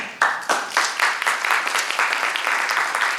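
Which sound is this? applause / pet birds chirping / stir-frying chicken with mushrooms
applause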